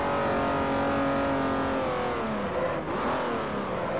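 A Ferrari 250 GTO races around the Nürburgring in Forza 4, its engine a loud, steady, close drone with rising and falling pitch through gear changes and throttle shifts.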